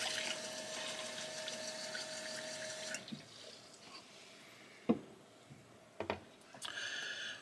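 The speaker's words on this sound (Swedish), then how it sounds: "Så jag tänkte ta lite vatten i ett glas här från kranen och mäta." Tap water runs into a glass from a kitchen faucet as a faint, steady trickle, followed by a few soft clinks and knocks as the glass is handled.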